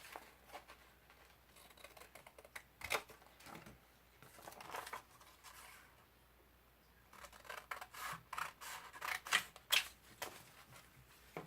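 Scissors cut a flap off a paper envelope for a junk journal page, giving faint, scattered snips and paper rustles that come in two clusters with a quiet pause between them.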